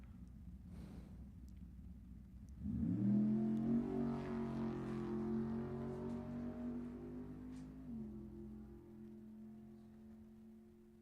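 A 1976 or 1967 Corvette drag car makes a solo pass, its engine revving up sharply after a quiet idle, then holding a strong steady drone before easing off, heard from moderate distance.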